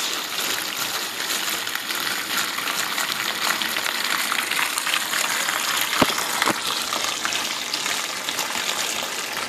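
Water gushes steadily into the drum of a Mueller SuperPop washing machine as it fills, a continuous broadband rush with a brief knock near the end, no voices.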